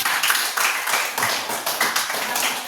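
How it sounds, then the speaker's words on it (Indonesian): A small group claps together in a bright, quick patter of hand claps that runs steady and fairly close for about three seconds, with no talking. "berikan aplaus dulu"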